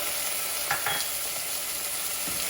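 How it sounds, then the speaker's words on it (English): Thyme, garlic and red wine vinegar sizzle in a hot pan for a Cumberland sauce, a loud, continuous hiss with faint stirring scrapes. "I'm putting in some thyme, some garlic, and some red wine vinegar"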